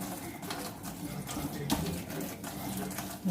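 Water tap running steadily into a sink drain in a home kitchen, a continuous soft splashing hiss at close range.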